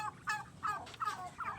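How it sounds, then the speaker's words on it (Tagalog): Turkeys on a farm give a burst of rapid, warbling gobbles, several calls in quick succession at moderate distance against a quiet outdoor background. "mga pabo, mga pato"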